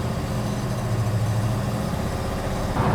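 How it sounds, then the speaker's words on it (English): A 1967 Chevrolet Chevelle SS 396 big-block V8 rumbles low and steady nearby, with a slight rise in revs at the end; no voices. "This engine runs really, really well."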